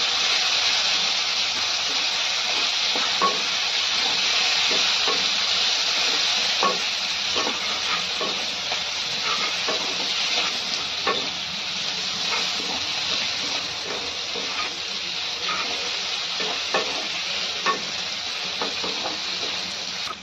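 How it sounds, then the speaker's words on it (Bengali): Chopped onion frying in hot oil gives a steady close sizzle, with repeated scraping and stirring clicks from a spatula against the pan over a long stretch. "পেঁয়াজ কুচিটা লাল করে ভেজে নেব।"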